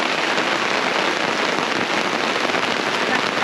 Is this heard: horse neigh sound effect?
no